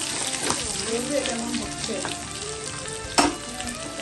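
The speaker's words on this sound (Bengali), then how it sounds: "তেলটাকে ভেজে নিচ্ছি।" Oil sizzles and crackles steadily in a pan while frying, a soft continuous hiss with occasional stirring clatter and a sharper pop, and a few quiet words spoken over it.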